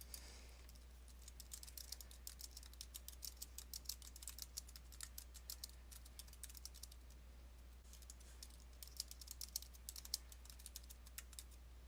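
Typing on a computer keyboard while entering an announcement's subject and content, with quick, uneven bursts of close keystroke clicks and short pauses in a quiet room.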